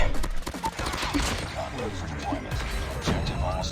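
A grenade blast in the Call of Duty: Mobile video game: a sharp explosive crash right at the start, followed by scattered thuds and gunfire-like bangs under a talking voice.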